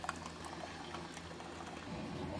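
Keurig coffee maker running a rinse cycle, giving a steady low bubbling, gurgling hiss of hot water that carries on throughout and grows a little fuller near the end.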